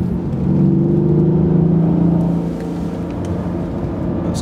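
A Mercedes-Benz E64 AMG on a track gives a steady engine drone with a rumbling undertone that swells early and then eases slightly, heard from inside the car with no speech.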